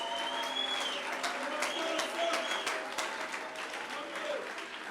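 A church congregation applauds steadily during a French-language worship service, a dense, sustained clapping with crowd murmur and a voice singing or calling out over it.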